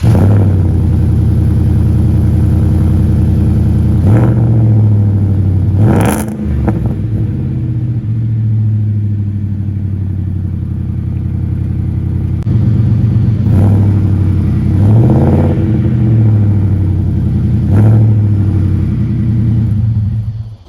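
A Ford F150 V8 fitted with a 4-inch exhaust tip runs loud and close with a deep rumbling idle, rising into several throaty revs and then settling back down.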